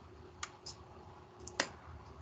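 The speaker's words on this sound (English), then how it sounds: "Let me type in my keyboard." A few separate keystrokes on a computer keyboard, sparse and fairly faint, with quiet room noise between the clicks.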